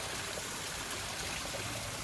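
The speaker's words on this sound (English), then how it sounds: "there's this cool little waterfall here right across from the crazy tree" A small waterfall on the Judd Trail spilling into a pond, a steady broad rushing and splashing of water heard up close, continuous and even with no talking.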